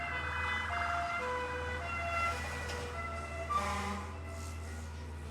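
A fire engine siren wails as it passes on a road, a steady rising and falling tone over a low motor hum that swells slightly toward the end.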